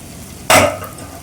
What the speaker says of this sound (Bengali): তারপর বেগুন ভাজাটা দিয়ে দিচ্ছি।